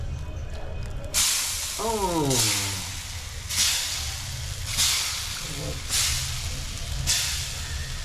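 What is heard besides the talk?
food sizzling in hot oil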